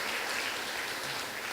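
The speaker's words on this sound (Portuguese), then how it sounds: "Então dê um forte aplauso a Jesus Cristo," Congregation applauding in a church, a steady wash of many hands clapping together, evenly sustained and fairly faint throughout with no voices standing out.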